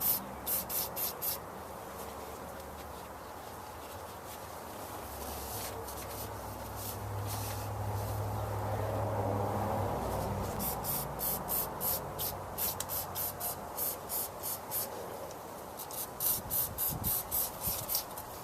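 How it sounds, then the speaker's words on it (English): Throttle body cleaner sprayed onto a Ford Crown Victoria throttle body, with short hissing bursts at the start and near the end and a longer steady spray and wiping with a shop towel in between, close and moderately quiet. "We'll just take our throttle body cleaner and a shop towel"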